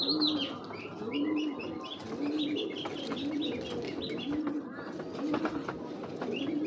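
Pigeons coo in repeated low, rounded phrases at a steady rhythm, close by, while higher bird chirps twitter alongside.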